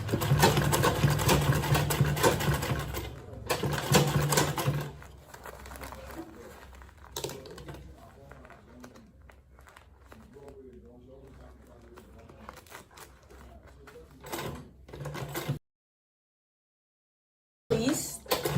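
A sewing machine stitches a shoulder bag with a steady mechanical hum at first, then gives way to softer rustling and handling of fabric, with a person talking throughout and a brief silent gap near the end.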